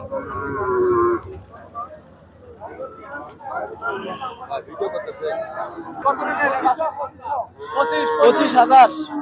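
A loud cow moo opens, followed by more lowing from heifers and cows amid crowd chatter and voices at a busy cattle market.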